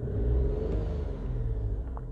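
The 1.0-litre engine of a Volkswagen up runs up in RPM: a steady, close, low rumble that rises slightly, with no talking.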